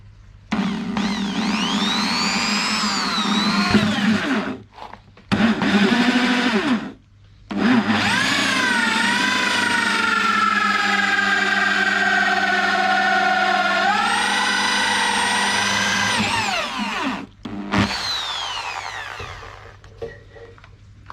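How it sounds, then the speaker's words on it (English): A power drill fitted with a 64mm hole saw cuts holes for pond hydro seals, a loud sustained whine that pitches up and down, cutting out briefly a few times between runs. "64mm hole saw for the hydro seals"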